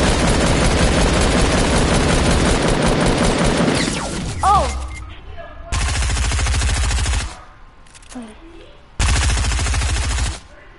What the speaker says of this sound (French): Tire avec ton pistolet mitrailleur, un peu. Ok, on tire en même temps.